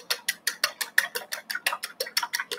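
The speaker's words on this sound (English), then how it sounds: "So we whisk it, that gets a little bit foamy." Rapid, rhythmic whisking of a flax egg in a bowl until foamy: about fifteen crisp, evenly spaced strokes, close and alone.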